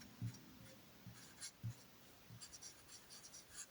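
Pen scratching on paper while writing out a math problem, quiet close strokes in short irregular bursts, with no talking over them.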